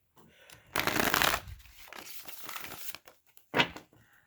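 A deck of tarot cards being shuffled close up, with a loud riffling burst, softer shuffling rustles, then another short sharp riffle, and no talking.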